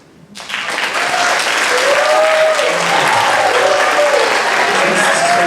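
A round of applause erupts suddenly and holds at a loud, even level for a high school concert band after an open rehearsal, with a few voices faintly audible in the crowd noise.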